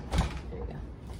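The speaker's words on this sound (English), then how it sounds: "My door just opened." A door creaks open indoors, a brief mechanical creak and slide with a low thump, fairly loud and close, with no one talking over it.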